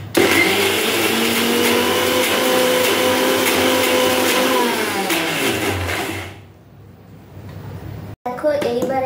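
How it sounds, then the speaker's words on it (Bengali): A mixer grinder whirs loudly, grinding poppy seeds with water for a hilsa fish dish, a steady high motor whine that winds down and stops, followed by a short clatter of handling. "আমি এখানে একটু জল অ্যাড করব, করে আবার এই মিক্সার গ্রাইন্ডারটা"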